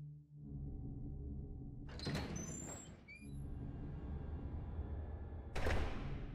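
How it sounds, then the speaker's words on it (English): A door opens in the Resident Evil 0 HD video game, a short mechanical burst with a creak rising over a steady low game ambience, followed by a second loud clunk near the end. "Let's go through this door."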